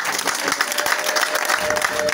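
Applause at a church celebration honouring pastors and a bishop, a dense steady clapping from a gathered crowd that fills the whole stretch without pause.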